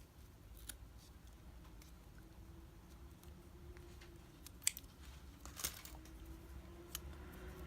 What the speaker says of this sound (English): Now that we've got the ribbon tied on there, we're going to cut off a little bit.